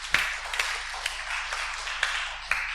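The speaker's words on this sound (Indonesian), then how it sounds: "Berikan tepuk tangan bagi Allah kita" A church congregation claps together at a Sunday service, a sustained wash of applause with a few sharper individual claps standing out over a steady reverberant hall.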